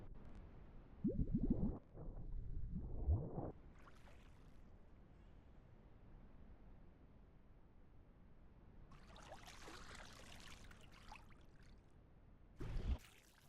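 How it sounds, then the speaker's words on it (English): Water splashes in a dinosaur survival game as a crocodilian creature moves through a pond, with a few faint, brief sloshing bursts separated by quiet stretches and a longer hissy splash near the middle. "Why can I hear splashing?"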